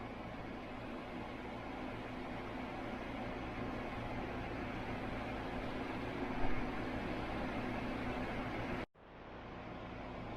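An ARGENDON Shield 35M compact 70-pint dehumidifier runs with a steady, moderate fan-and-compressor drone, broken by a sharp click and brief dip near the end before the hum resumes.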